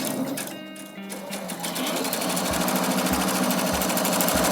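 A longarm quilting machine stitches fabric for a quilt, speeding up into a loud, steady, rapid mechanical chatter with a regular pulsing beat, close by and with no talk.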